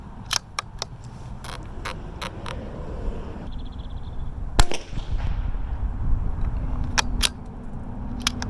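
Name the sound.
rifle shots fired at paper target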